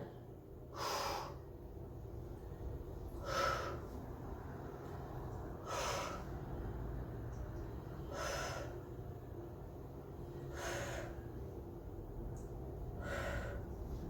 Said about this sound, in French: Je souffle, j'inspire.